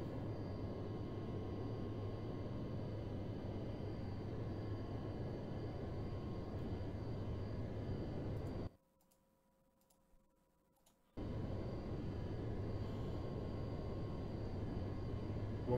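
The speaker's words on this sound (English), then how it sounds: "All engines stable. Full power." Boeing 707 engines run at takeoff power in the FSX flight simulator, a steady loud broadband roar with a faint high whine that cuts out briefly partway through before resuming.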